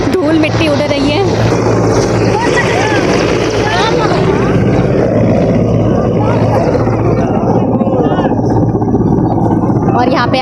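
A helicopter comes in to land amid dust at a large temple complex during an official visit, its loud continuous rotor and engine roar steady and close throughout, with someone talking over it.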